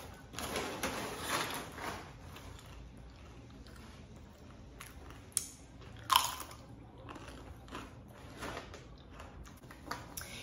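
Cheese-topped vegetable enchiladas being eaten up close, with quiet, soft chewing and biting and a couple of sharper crunchy moments, and no talking.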